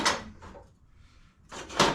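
A workshop drawer holding mower blades slides open with a scraping rattle, followed by a quieter stretch and then another loud clatter of metal as it moves again, with no voices.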